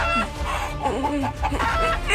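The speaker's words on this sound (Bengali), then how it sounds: "দুর্বল কাঁপা কাঁপা হাতে পাঁচু এক একটা মুরগিকে ধরে মেরে ফেলতে লাগলো।" Several chickens cluck and squawk agitatedly in close, overlapping bursts, their calls rising and falling loudly over a dense background of farmyard noise.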